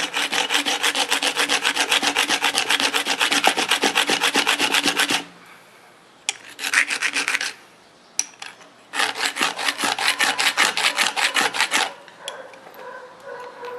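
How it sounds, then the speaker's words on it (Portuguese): A rough stone scrapes and rounds a wooden piece for a primitive fishing bow, giving loud, fast rhythmic rasping strokes in long bursts separated by brief pauses. "Vou utilizar então aqui a pedra, né, a pedra áspera, para raspar e fazer esse trabalho."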